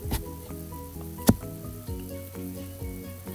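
Turmeric, red chili and coriander powder with salt fry gently in a pan over a low flame for an egg curry, giving a soft, steady sizzle under tonal background sound, with one sharp clink near the middle.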